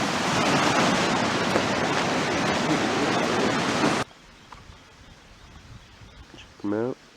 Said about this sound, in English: Plenty of that running water.